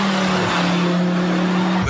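An Audi R8 with a V10 engine roars loud and close, a sustained steady drone that holds at one pitch and then cuts off abruptly at the end, with no talk.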